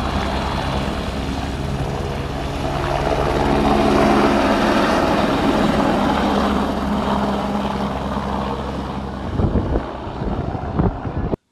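A helicopter flies along the Kedarnath pilgrimage route in the mountains, its loud, continuous rotor and engine roar mixed with heavy wind buffeting on the microphone, swelling slightly midway before a few bumps near the end.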